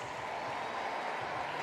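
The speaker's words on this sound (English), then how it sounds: "Please, a round of applause" Steady clapping from a crowd, dense and continuous, filling the whole moment without pause.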